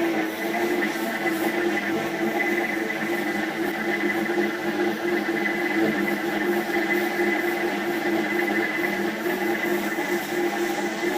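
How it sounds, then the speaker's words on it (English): A small flying machine hovering with one of its halves disabled gives a loud, steady, close motor whine with a constant tonal hum that holds unchanged throughout. "the machine can still fly, albeit in a degraded fashion. We're going to demonstrate this to you now by disabling one of its halves."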